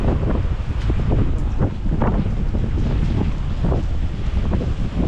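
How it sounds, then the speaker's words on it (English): Strong wind buffets the microphone on Madeira Street in Macau, a steady loud roar with gusty swells throughout, no voices heard. "let me just kind of capture that wind"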